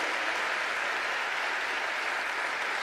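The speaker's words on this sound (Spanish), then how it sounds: "Vamos a darle un fuerte aplauso." A church congregation gives a strong round of applause, a dense continuous wash of clapping at full level from start to finish.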